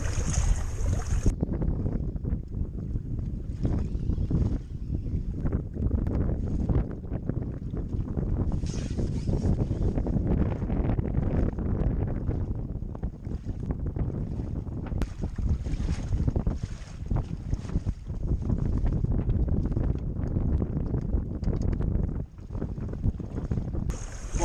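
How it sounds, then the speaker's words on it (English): Strong wind buffets the microphone beside a fishing lake during a feeder match for bream, a loud, steady roar with gusty surges throughout and no speech. "this wind's really got up and it's changed direction slightly"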